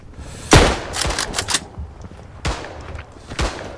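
Gunshots in the World War I shooter Verdun, a loud close crack followed by a rapid cluster of rifle and machine-gun fire, then two more sharp reports after short pauses.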